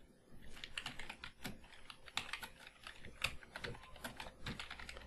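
Typing on a computer keyboard, a quiet, close string of irregular key clicks in quick bursts with short pauses, no voices.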